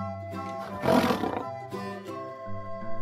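A lion lets out a deep, rough roar that swells to a loud peak and then fades, set against a bright children's music backing.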